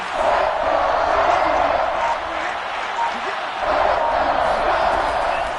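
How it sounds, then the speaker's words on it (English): A large crowd in a football stadium at a Packers vs. Lions NFL game roars steadily, a dense, continuous wash of cheering that swells and dips slightly without letting up. "Crowd getting in it a bit already."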